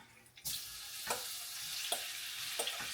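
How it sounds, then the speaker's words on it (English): Steady, bright sizzling of shrimp hitting hot oil in a pan. It starts with a sudden burst and has a few soft clinks and stirs on top. "as you can see, it's already sizzling because it's that hot"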